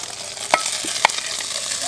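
Moringa-leaf eggs fry in a pan with a steady sizzle, while two sharp scrapes of a utensil stir them, close and clear with no talk.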